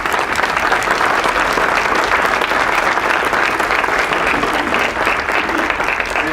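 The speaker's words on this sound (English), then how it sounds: "So give yourselves a round of applause for that." An audience at a tech festival event breaks into steady, even applause, a thick wash of many hands clapping at constant loudness throughout, with no pauses.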